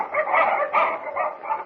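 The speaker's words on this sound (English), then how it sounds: "Batiste dogs are barking" Husky sled dogs barking at a camp: a loud, close, continuous chorus of barks and howling yelps from several dogs overlapping in rough pulses.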